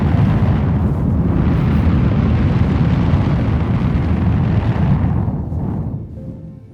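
A huge, roaring explosion in the space game Star Citizen rumbles loudly and continuously for several seconds before slowly fading out.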